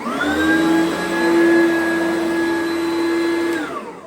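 An Oreck XL5 upright vacuum cleaner runs at a steady high whine with a strong motor hum and whirring overtones, close and loud, then winds down at the end.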